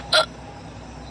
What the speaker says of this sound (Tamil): விக்கல் இன்னுமா நிக்கல?